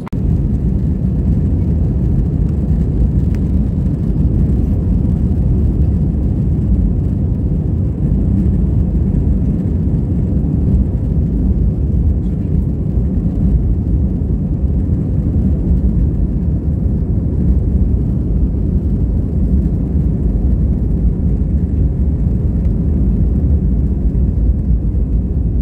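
Steady, loud low-frequency roar of AirAsia jet engines heard from inside the cabin during takeoff and climb, a constant broadband rumble filling the whole stretch with no talk.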